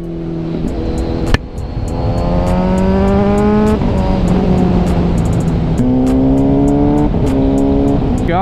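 Kawasaki Ninja 1000SX superbike with quick shifter accelerating in traffic, loud and close, the engine note climbing through the gears with a brief dip at each quick shift.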